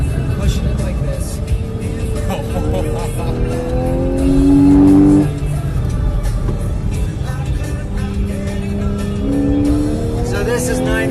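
A car accelerates hard on the race track at Apex Motor Club, its engine roaring and rising in pitch through the gears, loud and close inside the cabin, while people talk over it.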